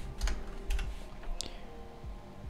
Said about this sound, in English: when that's done you can type python convert.py